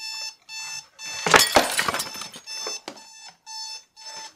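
Alarm clock beside a bed ringing in a repeated electronic beeping pattern, short bursts separated by gaps, with a louder clattering jumble in the middle, fairly near and alone.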